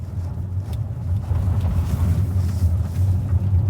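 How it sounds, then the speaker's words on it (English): Ford Explorer Electric driving on a gravel road, heard from inside the cabin as a steady low rumble with faint crackling grit from the wheel arches, fairly muted through the insulation, with no talking. "The insulation, as in the other MAB cars, seems to be fairly okay in the wheel arches. Makes some gravel noise"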